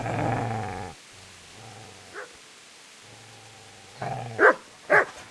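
A dog in the medieval video game Kingdom Come: Deliverance gives a low, rumbling growl, then after a pause breaks into two or three sharp, loud barks near the end.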